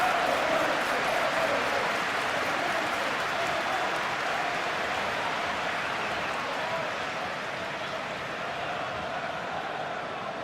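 A simulated football crowd at an Arsenal versus Manchester United Premier League video game match roars in a broad sustained wash that slowly fades, heard at a distance.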